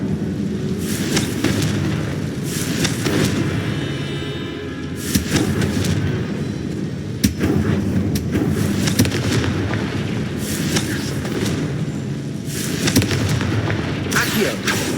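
Repeated explosive blasts from the Confringo spell in the Hogwarts Legacy video game boom out every few seconds, loud and close, layered over game music and effects.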